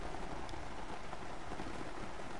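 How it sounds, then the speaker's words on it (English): Steady pouring rain in a goose hunting video game, a dense, even patter of drops across the whole map, constant and moderately loud with no speech. "It's pouring rain."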